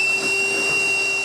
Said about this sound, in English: vacuum time.